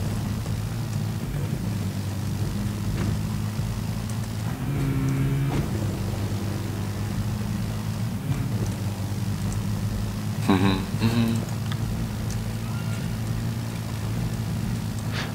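A quad-bike ATV engine in the Medal of Honor video game drones at a steady, continuous hum while driving, with brief revving swells and clatters around the middle and later, loud and close throughout.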